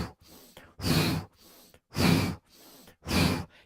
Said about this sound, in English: Twist right, inhale nose, exhale left.